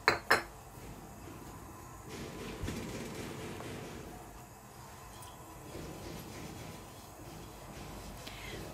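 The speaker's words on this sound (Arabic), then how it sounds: "دلوقتي بقى هنولع على الطاسة او المقلية اللي احنا هنعمل فيها" A frying pan is set down on a stove with two quick, loud metallic clanks, followed by a low, steady background hum with faint scrapes as it sits heating.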